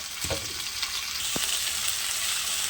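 Taro, potato and Malabar spinach hit a pan with onion and green chili for a rohu fish curry, giving a loud, steady close sizzle with a few sharp stirring clicks.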